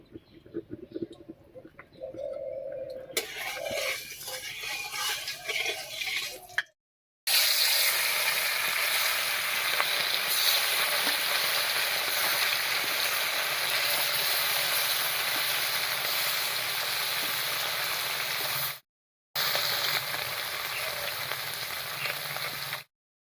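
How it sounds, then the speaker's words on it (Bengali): River fish frying in hot oil in a kadai, a steady loud sizzle and hiss that runs almost unbroken after a quieter, rustling start, with two short cuts to silence. "এবার কড়াইয়ে তেল দিয়ে মাছগুলো ভেজে নিচ্ছি"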